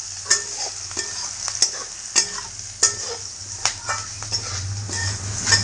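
Cauliflower pieces frying in a pan, a steady sizzle broken by sharp, repeated scrapes and clinks of a spoon stirring against the metal, close and fairly loud with no talking.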